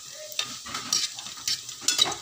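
Small dried anchovies (dilis) frying in a little oil, with soft sizzling and a few stirring scrapes coming in short bursts, close and moderately quiet.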